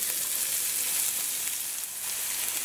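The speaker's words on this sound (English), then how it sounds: "When your oil is hot, go in with your aromatics that you chopped up." Chopped aromatics frying in hot coconut oil in a skillet, a steady soft hiss and crackle of sizzling throughout, fairly quiet and without voices.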